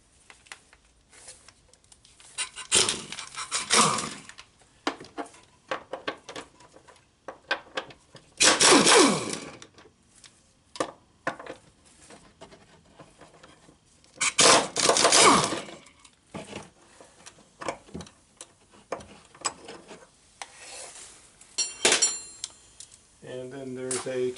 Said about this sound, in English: first I'm going to take these 2 bolts off. 16 millimeter